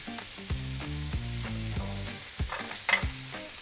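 Burger patties sizzle steadily on a flat top skillet, a continuous close frying hiss with music playing underneath.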